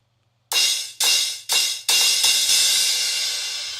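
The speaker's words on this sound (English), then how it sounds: "There is a second crash that sounds like this." A short drum machine crash cymbal sample hits four times in quick succession. Each is a bright, clean splash cut off by the next, and the last one rings out and slowly decays in isolation.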